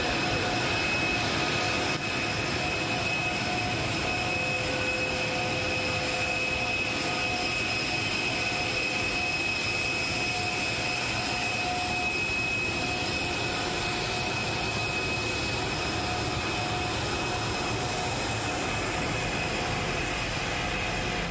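Jet engines of the VC-25A Air Force One, a continuous loud roar with steady whining tones that holds evenly throughout, no voices over it.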